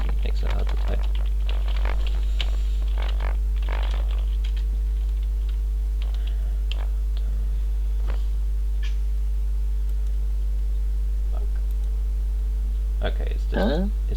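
Scattered clicking on a computer keyboard, typed with cold hands while coding, comes in short bursts at the start and again near the end. A steady electrical hum runs underneath throughout.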